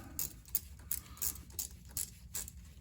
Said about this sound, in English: we're going to start by taking the small hose clamp off and getting this tube off the side